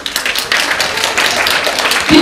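Applause from an audience for the animal trainers at a live show with performing poodles, dense steady clapping filling the whole stretch, fairly loud and close.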